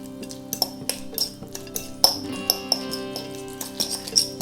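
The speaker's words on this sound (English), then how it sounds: "let's give that a bit of a mix" A spoon clinks and taps repeatedly against a bowl while wasabi is mixed into leftover sushi accompaniments, giving bright ringing pings at an uneven rhythm over a faint steady hum.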